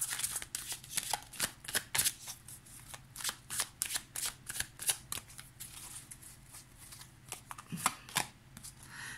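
A tarot de la nuit deck is shuffled close up: a long series of crisp, papery riffles and slaps in a steady, slightly irregular rhythm, alone without speech.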